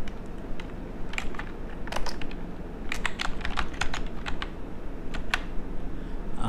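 Keys on a computer keyboard are tapped to enter a word, with irregular close clicks over a steady background hiss and no voices.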